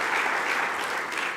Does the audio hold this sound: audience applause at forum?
yes